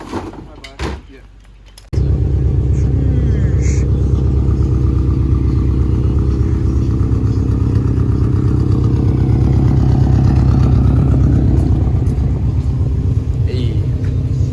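A 2004 Subaru STI with a newly installed Turbo XS front-mount intercooler cranks and settles into a loud, steady idle close by after clicks and knocks, with the rumble holding throughout.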